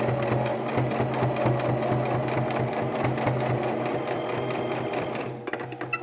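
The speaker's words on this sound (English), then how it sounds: "And then go straight across, remembering to backstitch." A sewing machine stitches straight across a fabric face mask, its needle motor chattering in a steady rapid rhythm close up, running loud and continuous before stopping near the end with a few small clicks.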